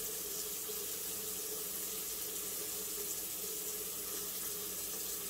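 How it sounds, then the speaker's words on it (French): Water runs steadily from a tap into a sink in a bathroom, a constant close hiss and splash with no pauses or voices. "Mais l'eau coule."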